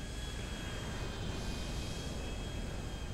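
Airplane engine in GTA 5 Online during a damaged Vestra landing at Maze Bank, a steady loud broadband roar with a constant whine running throughout, no speech over it.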